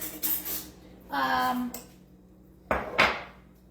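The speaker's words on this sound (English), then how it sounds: "Just gonna mix this around so it's like a little bit creamy" A spoon scrapes and clinks against a bowl while peanut butter is being mixed, in a few short bursts separated by pauses, close and fairly clear.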